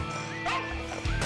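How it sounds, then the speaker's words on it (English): Dog barking in a video game: a few quick yips and barks close up over a short span, with faint background game sounds and no clear talk. "Bad dog."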